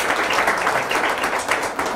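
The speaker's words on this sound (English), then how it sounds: "And I want great applause, big applause for them." Audience applause fills the hall at an international arbitration competition opening ceremony, with steady, dense clapping that stays loud and continuous for the short moment.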